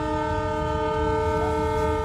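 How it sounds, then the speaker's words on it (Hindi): A train's horn blares continuously at a steady, loud pitch as the locomotive slows while approaching a cow on the railway track, with the low rumble of the moving train underneath. "गाय को देखकर पहले तो ड्राइवर ने ट्रेन की स्पीड कम की और फिर हॉर्न बजाना शुरू कर दिया।"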